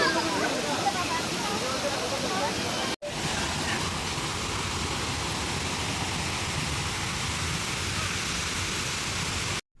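Steady roaring rush of falling water from Daramattam waterfalls near Narsipatnam, Visakhapatnam, loud and continuous, with a brief dropout early on before the flow resumes.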